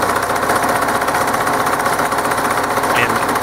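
Vintage Singer Stylist 533 free-arm sewing machine running with its foot pedal: a fast, even mechanical chatter of stitching, loud and close, continuing without a break.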